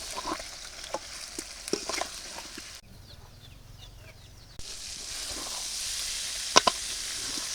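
Eggplant pieces seasoned with turmeric and salt fry in oil in a wok, giving a close, continuous sizzle with a few utensil clicks and brief louder spatters. The sizzle drops to a quieter stretch midway before returning.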